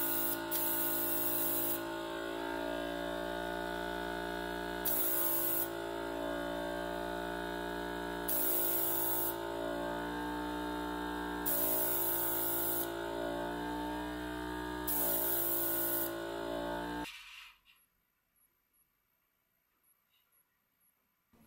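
A cheap airbrush from a scale-modeling kit hisses steadily, and its pitch shifts in regular bursts as the trigger is pressed, until the spray cuts off and near silence follows.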